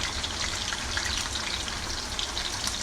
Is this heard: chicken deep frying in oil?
yes